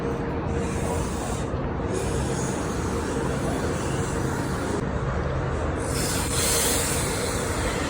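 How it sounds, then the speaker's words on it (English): A New Haven Line train pulls out of Larchmont station with a continuous low rumble and a broadband rush of rolling wheels. The sound stays loud and close throughout, with no talk. "this train is leaving now"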